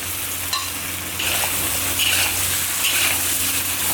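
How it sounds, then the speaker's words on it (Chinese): Tiger-skin green peppers sizzle and crackle in a hot wok with garlic, ginger and doubanjiang, a steady loud frying hiss with scraping stir strokes throughout. "炒香后下虎皮椒"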